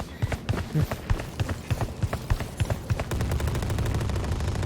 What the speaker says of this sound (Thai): เฮ้ยปืนกล